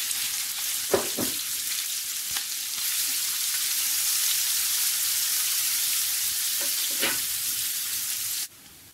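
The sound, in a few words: frying chopped onion and garlic in oil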